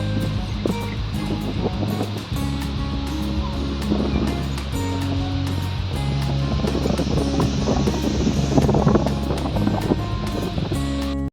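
Ocean waves wash in steadily at a crowded beach in Boracay, loud and continuous with heavy wind rumble over the microphone and no clear talk.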